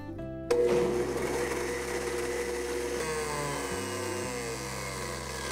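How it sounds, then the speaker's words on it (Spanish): A kitchen blender starts abruptly and runs steadily, whirring loud and close as it purées a sauce for cucumber spaghetti, with a slight shift in motor pitch partway through. "a continuación vamos a licuar"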